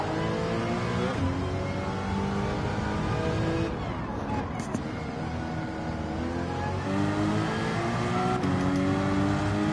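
A Porsche GT4 race car in Gran Turismo 7 holds a loud, continuous engine drone through the whole stretch, pitch rising and falling with shifts during a lobby sprint race.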